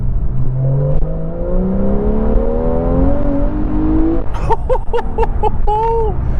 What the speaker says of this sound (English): we've got the loud exhaust button on